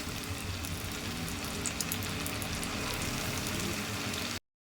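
Potato fries bubbling in hot oil in a pan over a low flame, a steady, even sizzle and crackle at moderate loudness that cuts off abruptly.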